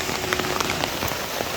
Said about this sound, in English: All of that is to help keep the rain out of the coop.